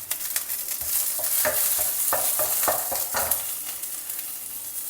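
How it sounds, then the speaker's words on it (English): Dals, dry red chilies, green chili and curry leaves sautéing in a pan, a steady close sizzle with rhythmic scraping and stirring strokes of a spoon, fairly loud and without voices. "Saute everything till the dals are well roasted"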